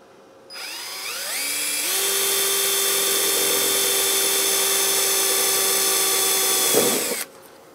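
A power drill bores 1/8 inch holes into the sheet-metal cab corner of a 2001-2006 Chevrolet Silverado 2500, spinning up and whining steadily and loudly close by for several seconds before stopping abruptly, with no talking.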